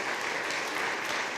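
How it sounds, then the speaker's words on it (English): An indoor crowd applauds at a sheriff's department community meeting, a steady dense wash of clapping that holds evenly loud throughout with no voices on top. "I'd like to please a round of applause and say thank you to Melissa over here for doing a great job"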